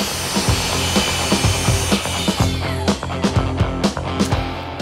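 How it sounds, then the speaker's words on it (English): A power saw cuts wooden boards with a steady loud whine, punctuated by repeated rhythmic thumps and grinding bursts as the blade bites through the wood. "Step number one, cut your boards."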